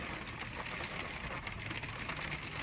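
Rain pours down steadily on outdoor surfaces, an unbroken hiss of drops that stays even and moderately close throughout, with no one speaking.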